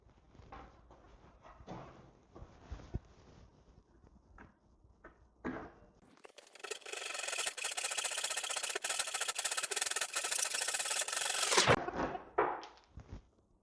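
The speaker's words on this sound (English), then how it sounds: "grab our square stock and a handsaw" A dull handsaw cuts through square wood stock in a continuous, loud, rasping burst of about six seconds, with quieter handling knocks and scrapes before and after.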